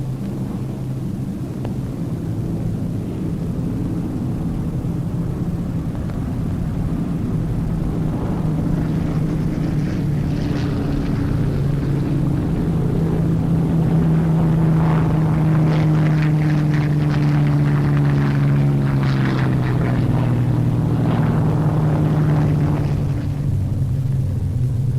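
An RAF squadron's aircraft drone overhead, a loud sustained propeller rumble with engine tones slowly rising and falling as the planes pass, continuous for the full length with no voices.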